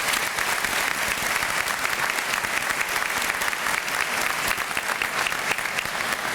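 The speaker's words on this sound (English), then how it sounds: "let's give a round of applause for you all" Graduation commencement audience gives a sustained round of applause, a thick, even roar of many hands clapping without pause, loud and close throughout.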